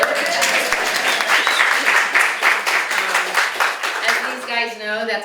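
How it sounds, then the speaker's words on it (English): An audience at a public forum in Morris, New York, breaks into lively clapping that holds steady, while a voice talks over the applause near its end. "Go ahead and clap"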